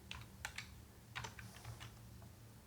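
Keystrokes on a computer keyboard while CSS code is typed, a quiet irregular run of soft clicks in short bursts over a low steady hum, with no talking.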